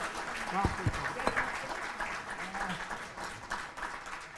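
An audience at an award ceremony gives a warm round of applause, a dense wash of clapping that swells and then tapers, with a voice speaking over the start.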